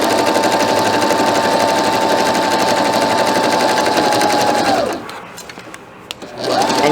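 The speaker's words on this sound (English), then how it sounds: "Notice I'm sewing right over these open seams." Fast, steady whirring of a sewing machine stitching pajama pants over open seams, a continuous buzzing run that stops abruptly near the end, then a brief quiet and a restart.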